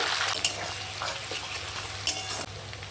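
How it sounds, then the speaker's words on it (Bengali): Onion frying in a pan with bay leaf, dry chilli and whole garam masala, a loud continuous sizzle broken by a few stirring scrapes, heard alone. "পেঁয়াজটা একটু ভাজা ভাজা করে নেব"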